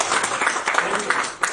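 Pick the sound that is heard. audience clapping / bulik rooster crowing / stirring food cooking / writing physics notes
audience clapping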